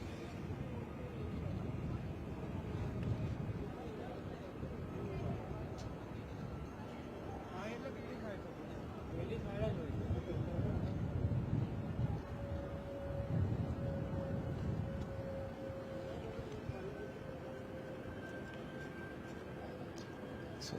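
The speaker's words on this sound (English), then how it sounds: "it sounds actually like that BA that's got towed earlier is doing an engine test" A British Airways Embraer E190 of BA City Flyer runs an engine test at London City Airport, a low, sustained rumble heard from a distance that swells and fades, with some wind noise and people talking over it.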